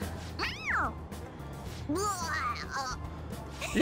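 A cartoonish cat cry from Persona 5 Royal rings out in two separate meowing bursts, the first a sharp arching meow and the second a wavering, longer call, over a steady low game hum.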